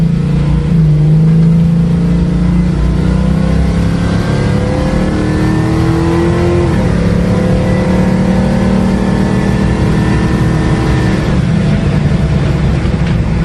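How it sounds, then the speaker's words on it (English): A 1969 Chevrolet Camaro Pro-Touring with an LS2 V8 accelerating hard on a test drive, a loud continuous engine roar heard from inside, rising in pitch through the gears with brief dips at shifts. "I hit 100 miles an hour in seconds there with quarter throttle"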